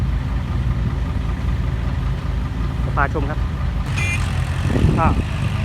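A Hino 195 dump truck at a pig-farm construction site idles with a steady, loud low-pitched diesel rumble that runs throughout, while someone talks briefly over it.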